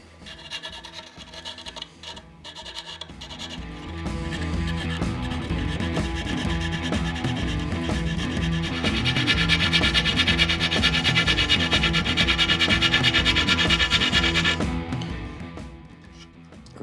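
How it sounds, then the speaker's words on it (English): Sandpaper rubbing back and forth over the wooden neck of a semi-hollow guitar, a close, continuous rasping scrape that grows louder and fuller midway before stopping abruptly near the end. "I'm sanding this at an ever so slight angle"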